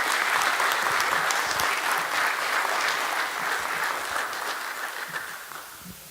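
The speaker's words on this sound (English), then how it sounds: "Let's give Tristan one more round of applause" A county board of education meeting audience applauds Tristan with a steady, full round of clapping that tapers slightly toward the end.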